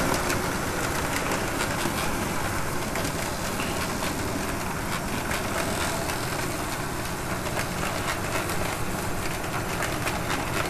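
A Conrail and Pennsylvania E8 diesel locomotive train rolls past close by, a loud continuous roar of engine and wheels on rail with faint rhythmic clatter throughout.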